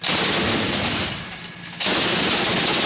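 Loud, rapid bursts of heavy automatic gunfire from a territorial defense anti-aircraft gun, a brief lull, then sustained firing resumes, close and harsh.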